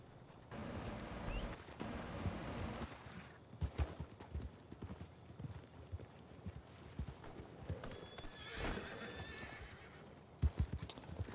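In the video game Red Dead Redemption 2 Online, hooves clip-clop in a quick gallop, and a horse whinnies loudly partway through, amid scattered thumps and bangs.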